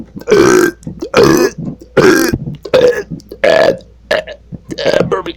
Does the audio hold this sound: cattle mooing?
no